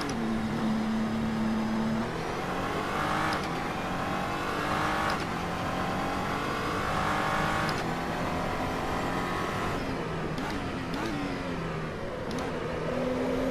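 An SCG 003C race car lapping in the video game Assetto Corsa, its engine droning loud and steady, revving up through gears with short shift breaks and tire whine, no voices.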